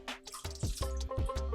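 Water poured from a measuring cup into soy sauce in a cooking bowl for Mongolian beef, a short close splashing trickle with a few drip-like plops, no talk.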